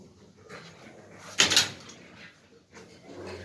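Dog on a farm reacting as a door opens, with a sharp clattering door burst in the middle and soft shuffling, whimpering sounds around it.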